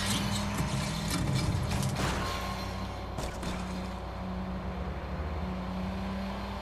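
A car driven through city streets in the Watch Dogs game, its steady engine hum running low and even underneath, with a few clattering bumps and knocks along the way.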